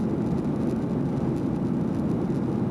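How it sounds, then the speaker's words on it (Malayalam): An airplane in flight over Iran gives a steady, even cabin roar with a broad low rumble that holds unchanged throughout, with no voices. "ഇപ്പോൾ വിമാനം ഇറാന്റെ മുകളിലേക്ക് എത്തിയിരിക്കുന്നു"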